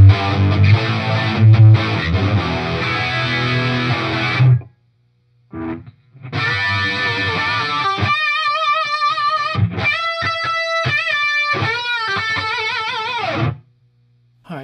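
Electric guitar played through an ART SGX2000 preamp with a heavily compressed, processed 1980s tone; chunky rhythm chords give way to sustained, chorused lead notes and bends, loud and upfront, broken by short silences.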